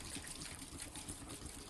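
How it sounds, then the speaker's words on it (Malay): Water is poured steadily into a cake mixture, giving a continuous soft splashing gush that runs unbroken from start to finish with no voices. "Saya masukkan air, bahan cecair."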